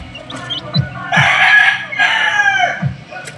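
A Golden Boy bloodline gamecock rooster crows loudly and close, a ragged strained call with a second crow right behind it and a few low clucks around it.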